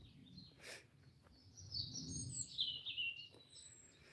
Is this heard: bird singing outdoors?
yes